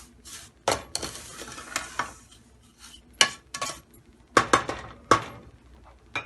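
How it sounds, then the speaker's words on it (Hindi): Vermicelli (siwayyan) roasts in a pan over medium-low heat with a soft sizzle. A metal spoon stirs it, giving sharp scrapes and clinks at irregular moments, close and fairly quiet. "ये देखिए मीडियम टू लो पे ही हमने इसको भूनना है।"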